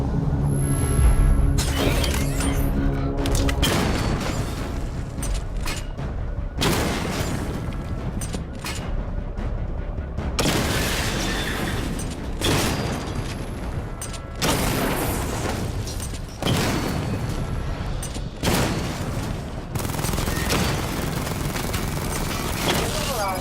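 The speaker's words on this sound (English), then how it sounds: "Destroy targets to charge up weapon energy and activate missile barrage." Batmobile firing missile barrages that blow up targets in Batman: Arkham Knight, a long run of heavy booms, shattering crashes and mechanical whirs in repeated bursts, with voices speaking intermittently over the action.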